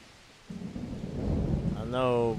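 Thunderstorm in the fishing video game Russian Fishing 4, with a deep rumble of thunder rising over steady rain noise, and a voice starting to speak near the end.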